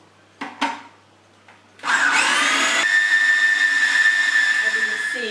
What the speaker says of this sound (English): As you can see, my food processor is trying to escape.